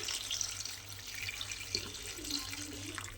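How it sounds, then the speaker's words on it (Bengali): Water pours steadily into a pot of hing panchphoron chicken curry with potatoes, a continuous close splashing rush without pause and with no voices. "এইবারে আমি এর মধ্যে দিয়ে দেব জল।"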